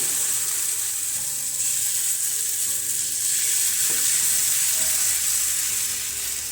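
Chilla batter made from wheat flour sizzling on a hot griddle, a steady close frying hiss with faint scraping and stirring clicks underneath, no talking.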